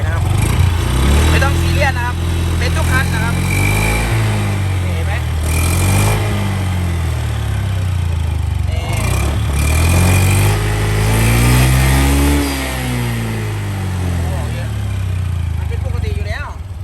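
A petrol car engine runs loud and close with water coming out of the exhaust, its pitch swelling and dropping as it revs up and settles, droning steadily throughout.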